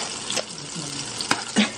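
Eggplant frying in a pan at home, a steady close sizzle and crackle of oil with a few sharper pops and spatters over about two seconds, no talking.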